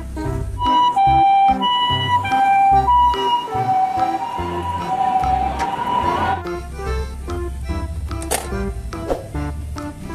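A toy ambulance siren wails in a steady rising and falling pattern over background music with beats and electronic tones, loud and close throughout.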